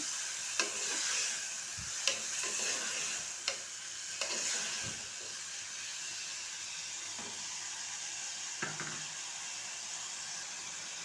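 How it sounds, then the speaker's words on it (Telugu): Potato and tomato curry is stirred in a frying pan, a steady close sizzle under periodic scrapes and knocks of the spoon against the pan, with no talk. "ఇక్కడ వేసుకొని మొత్తం కలిపించుకోవాలి"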